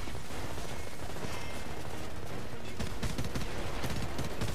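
Steady, dense gunfire from a first-person shooter, Homefront, with rapid shots packed together into a loud, continuous wash of noise throughout.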